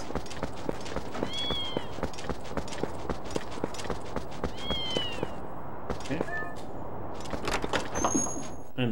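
Cats in The Legend of Zelda: Twilight Princess give two short high meows amid steady clip-clopping footsteps and game ambience, followed by a few chime-like effects near the end.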